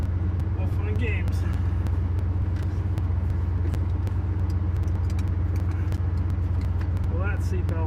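A truck driving on a snowy forest plowing run rumbles with a low, constant engine drone while its exhaust rattles and clanks intermittently, with occasional metallic jangles inside the cab.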